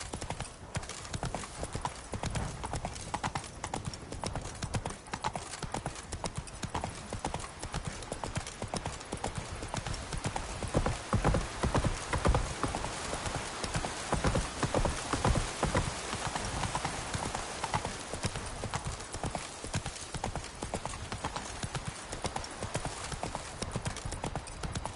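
Roach, a horse in the Witcher 3 video game, gallops with dense rapid hoofbeats under a continuous loud wash of game ambience and wind, steady throughout.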